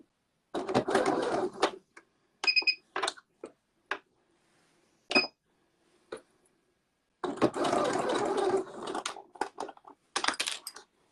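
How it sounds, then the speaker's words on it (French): A sewing machine stitches two fabrics together 2 mm from the edge in close, rapid bursts of mechanical clatter, with short pauses and small clicks between runs. "Avec la machine à coudre, je vais piquer tout près à 2 mm du bord."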